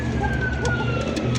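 A mated pair of fancy pigeons, male and female, coo softly and repeatedly at close range over a steady background hum.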